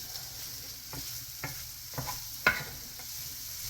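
Spam frying in a pan for a simple rice and beans meal, with a soft, steady sizzle and a few light clicks of stirring, fairly quiet throughout.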